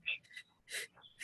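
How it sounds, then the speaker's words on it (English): Short, forceful breath-of-fire exhalations from a yoga practice, a few quick puffs of breath heard close and faint. "She's exhaling forcefully out from the belly. Like you're blowing out birthday candles. Short, forced exhalations."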